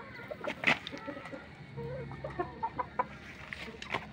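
Mother hens cluck close by in a backyard flock, with scattered short clucks, one sharp squawk early on and a string of clipped, rhythmic clucks later over low background noise.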